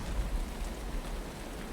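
Rain in the video game Uru Complete Chronicles: a steady, dense hiss of falling rain with a low rumble underneath, even and continuous throughout.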